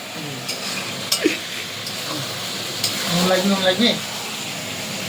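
Chicken meat stir-fried in a pan gives a steady soft sizzle with occasional scraping and stirring clicks, close by, while voices talk over it.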